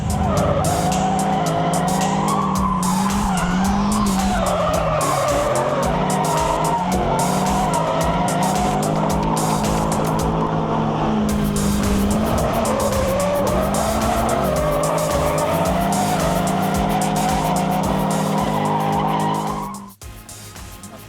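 Drift cars at a drift event run in tandem with continuous loud tire squeal and skidding over high-revving engines that rise and fall, close and sustained, cutting off abruptly near the end.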